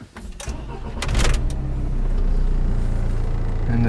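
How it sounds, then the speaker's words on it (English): A Renault Espace IV engine cranks briefly and catches, settling into a steady, loud, close idle with no voices. "now start the engine."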